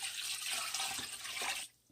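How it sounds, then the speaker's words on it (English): A steady stream of water pours and splashes into a cooking pot of chitlins for under two seconds, then stops abruptly. "All right, we're going to add some more liquid."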